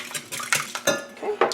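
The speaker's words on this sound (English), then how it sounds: "I'm going to whisk the eggs." Eggs being whisked in a bowl for a dairy-free pumpkin cake batter: quick, uneven clinks and scrapes of a utensil against the bowl, several sharp taps close by with no talking.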